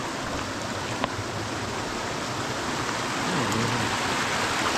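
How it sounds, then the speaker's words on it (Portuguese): Small waterfall in Serra do Japi, a steady rushing, splashing wash of water heard close and continuous, with no talk over it. "Tá quedinha d'água, uma cachoeira é uma quedinha, né?"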